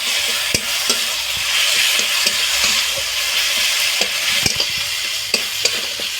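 Onion, tomato and ginger-garlic paste sautéing in a pan, a steady sizzle with intermittent clicks and scrapes of stirring, close and moderately loud, no voices.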